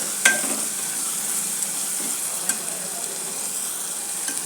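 Masala spices frying in a pan for a chana chicken dish, a steady close sizzle and hiss with a few faint clicks of a stirring spoon, no talk.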